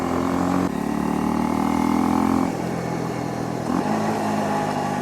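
A Honda CL250 motorcycle engine drones steadily during a test ride, its pitch shifting slightly and dropping at a gear change, with wind rush around the sound.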